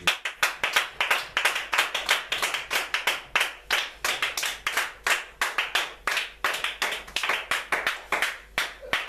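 A church congregation claps hands in a steady rhythmic beat throughout, many hands together at a lively, even tempo, fairly close with no talk over it.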